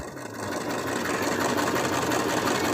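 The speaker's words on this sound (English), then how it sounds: "What I am sewing now is this wedge." Close, steady whirring of a sewing machine stitching a wedge piece for a plush toy, running continuously after a brief start.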